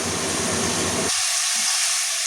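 Chicken sautés in spices in a pan with a dense, close sizzle that abruptly thins to a softer hiss partway through.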